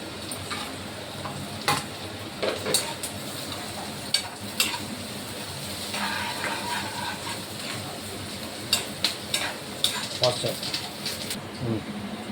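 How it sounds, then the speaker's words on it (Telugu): Onions sizzle in a pan until golden, with curry leaves added. A soft steady fry runs under sharp scraping clicks of a spatula stirring at irregular intervals, close by. "ఆనియన్స్ బాగా అయితే వేగిపోయాయి ఇలా గోల్డెన్ కలర్కి వచ్చినాక"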